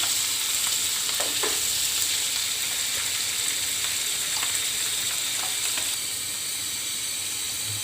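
Chopped onion, green chili and ginger frying in oil until brown for a tangra fish curry: a loud, steady, close sizzle and hiss with a few faint stirring knocks, and no speech.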